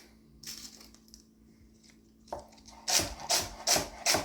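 A knife cuts through the ends of beet stems lined up on a cutting board, starting with faint soft rustling and then a run of four firm, crisp chops close by, with no talk.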